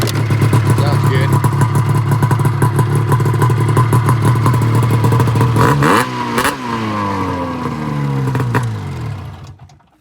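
A Polaris XC 700 snowmobile engine runs loud and close with a rough two-stroke clatter, revs, then drops and winds down toward silence near the end.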